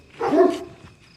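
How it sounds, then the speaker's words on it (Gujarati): A dog gives a single sharp bark, close and loud, with a brief faint echo afterward. "કૂતરું ભૂવે છે"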